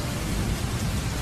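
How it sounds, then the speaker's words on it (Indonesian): Steady rain falling during a motorcycle ride at dusk, a dense, even hiss of downpour that stays constant and loud with no speech. "Ini hujan terus ya di daerah sini"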